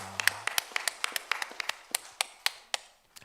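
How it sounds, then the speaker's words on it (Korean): Sharp, separate hand claps from a church congregation during a Sunday Advent service, about fifteen distinct strikes in a loose, fairly even rhythm that gradually spread out and trail off. "하나님께 영광의 박수를 드리겠습니다"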